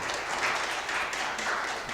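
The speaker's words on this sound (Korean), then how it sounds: "큰 박수로 환영" Audience at a disaster-resilience seminar in Korea claps steadily to welcome a professor to the stage, a soft, continuous patter of many hands, moderately distant, with no voices over it.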